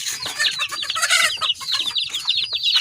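Month-old chickens clucking busily while eating their feed, a dense, close chorus of overlapping chirpy clucks with no pauses.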